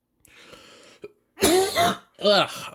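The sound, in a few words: speaker coughing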